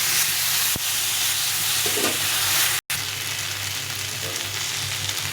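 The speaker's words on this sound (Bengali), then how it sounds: "এখন এটাকে ভালো করে একটু ভেজে নেবো কষিয়ে নেবো" A spice mix with turmeric and salt fries in a pan in a loud, steady sizzle and hiss, broken by a brief total dropout near the middle, with no talk.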